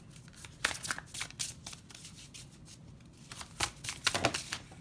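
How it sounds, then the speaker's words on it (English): Rapid riffling and flicking of playing cards being shuffled, a series of crisp papery bursts up close. "let's shuffle this deck for pile 2"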